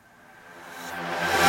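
A reversed synth pluck from a future house track made in GarageBand swells steadily from near silence to a bright peak over about a second and a half, with no talking.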